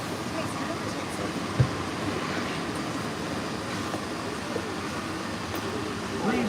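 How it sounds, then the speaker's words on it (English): Walt Disney World's Monorail Green rolling along at a steady pace, its broadband rumble and whirring continuous throughout, with a brief knock near the start and people talking faintly inside the car. "welcome aboard Monorail Green"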